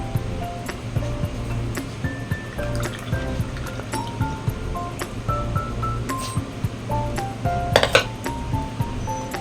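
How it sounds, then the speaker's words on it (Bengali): Lemon juice is made in a glass in a home kitchen, with a spoon clinking repeatedly and lightly against the glass. The clinks come at an irregular rhythm over soft running-water and household background noise. "মেয়ের জন্য এখানে হচ্ছে লেবুর রসটা করে নিলাম"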